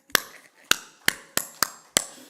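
Six sharp, separate hand claps land at roughly even intervals, each crisp and close with a short ring after it. No talk is heard between them, which suggests a church congregation clapping along during a Sunday service.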